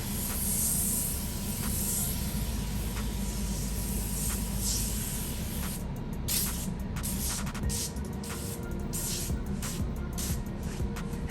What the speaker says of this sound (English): I've got the 261 Duragloss. I have no idea what's gonna happen here, but I'm just gonna spray it on.